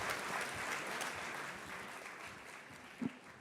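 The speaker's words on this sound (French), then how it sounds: "que je vous demande d'applaudir bien fort" A conference audience gives a steady round of applause, a dense patter of many hands that slowly fades over a few seconds.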